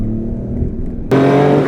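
A 1990 Porsche 964 911 drives along with its engine humming at a low steady drone, then a sudden step up to a louder, richer note as it shifts or accelerates, heard from inside the car.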